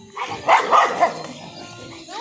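Several dogs barking and yapping in a cluster of loud yelps near the start, then quieter whimpers, with people talking over them in Bulgarian amid a home dog-training setting.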